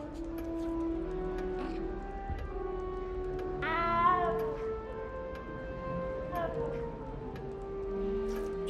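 A cat meows in the Hogwarts Legacy video game, one clear rising-and-falling cry midway over a soft, steady game background with a quiet voice.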